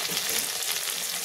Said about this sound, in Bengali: এখানে দিয়ে দিচ্ছি পেঁয়াজ টমেটো কুচানো।